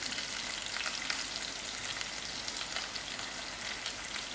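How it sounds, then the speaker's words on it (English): Dried fish chutney fries in a pan with a dense, steady sizzle while a fork breaks up the pieces with faint scraping, close and continuous, no talk. "I am using my fork to break out the dry fish and allow the pieces to get more fried."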